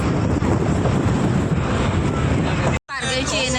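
Water gushing hard from a burst pipe outdoors in hot sun, a loud continuous roaring rush that drops out briefly near the end before resuming with a voice faintly audible over it.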